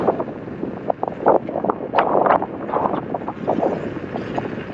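Steady wind buffeting a microphone while riding a Begode EXN HS electric unicycle, a continuous low rumble with gusty surges throughout, loud and close.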